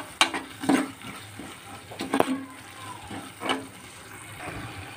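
Ginger garlic paste is stirred into softening vegetables in a pan, heard as a low sizzle broken by a few distinct scraping and clanking strokes of a spoon at irregular intervals.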